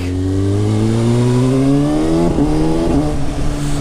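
A Kawasaki Ninja motorcycle pulls away under acceleration, its engine note rising steadily and loudly, then a brief gear change near the end before the pitch climbs again, heard up close from the rider's position.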